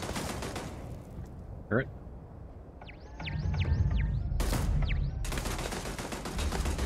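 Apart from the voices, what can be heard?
gunfire from enemies in the video game Starfield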